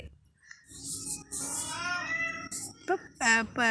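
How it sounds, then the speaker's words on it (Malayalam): A female cat in heat gives a drawn-out, yowling call followed by several short, loud meows near the end, close to the microphone. "മെയിൻ കാറ്റിനെ കണ്ടുകൊണ്ടാണ് എൻ്റെ പൂച്ച ഇങ്ങനെ വിളിക്കുന്നത്"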